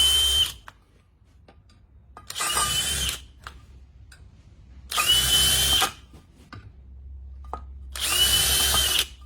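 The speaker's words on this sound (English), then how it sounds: "Do a little pre-drill, little pre-drill" A power drill whirs in four short bursts of about a second each, pre-drilling holes for a glass rail mount, separated by pauses with a low idle hum underneath.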